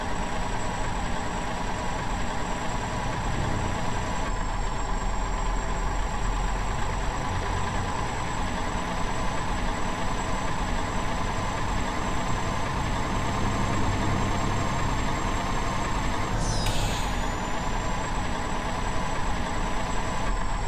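Heavy truck engine idling in the Truck Simulator USA driving game, a steady low rumble throughout, with a brief hiss near the end that suggests an air-brake release.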